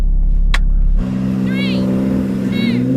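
A race car engine runs with nitrous on, idling then switching to a steady mid-pitched drone with a rising tone, loud and close, while people talk over it.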